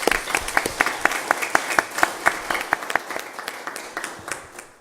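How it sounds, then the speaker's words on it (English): Applause at a city council meeting, a modest group clapping with distinct, fairly regular individual claps standing out, close and clear, tapering off over about five seconds. "so let's give them a round of applause."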